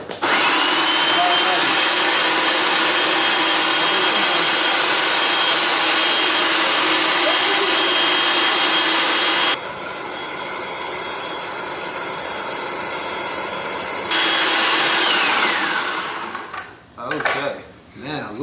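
A blender grinds peanuts into homemade peanut butter, a loud, steady motor roar that drops in pitch for a few seconds, then surges again before cutting off, with no voices over it.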